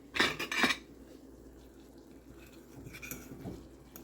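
A metal pot lid clatters down onto a pan of chicken and creamy spinach orzo in a short, loud double rattle, followed by quieter kitchen clinks and faint bubbling.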